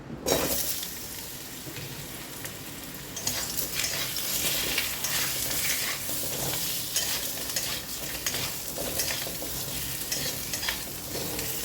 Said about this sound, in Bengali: দিয়ে কড়াইতে যেটুকু তেল আছে ওইতেই আমি কচুগুলো দিয়ে দিলাম।